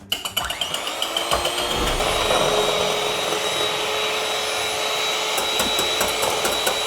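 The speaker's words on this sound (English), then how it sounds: "So we're creating the meringue, so you get the electric whisk." An electric whisk beats meringue for an old colonial-style dessert, a loud nearby motor whirring steadily after a few clattering starts against the bowl.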